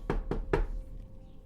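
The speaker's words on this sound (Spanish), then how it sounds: "y toqué a la puerta" Three sharp knocks on a door in quick succession, the last slightly louder, close and alone, followed by quiet room tone.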